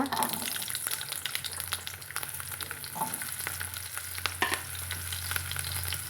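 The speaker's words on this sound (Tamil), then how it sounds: "எண்ணெய் காஞ்சதும் கடுகு சேர்த்துக்கலாங்க கடுகு குறைஞ்சதும் நம்ம வெட்டி வச்சுருக்கிற சின்ன வெங்காயத்தை சேர்த்துக்கலாங்க" Mustard seeds and small onions fry in hot oil with a low, continuous crackling sizzle, stirred now and then with light scraping sounds, fairly quiet throughout.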